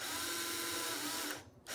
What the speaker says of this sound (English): with my handy string winder, I can go ahead and string this up